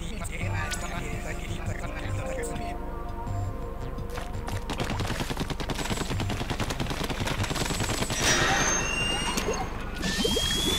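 Ink weapon fired in the Splatoon campaign, a rapid, steady stream of squelchy shots over game music, with a voice talking throughout.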